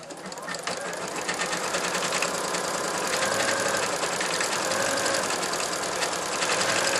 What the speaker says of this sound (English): I'm going to go ahead and hit start, and it's going to stitch out the placement for the first applique piece